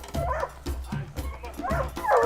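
Hunting dogs bay and yip in repeated excited barks at a caracal during an African safari hunt, with whining between the barks, fairly close over a low background rumble.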